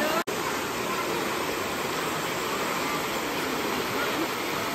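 A stream in Krabi, Thailand rushes steadily near a small footbridge, giving off a constant dense hiss of flowing water that never pauses.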